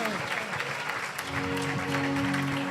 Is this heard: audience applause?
yes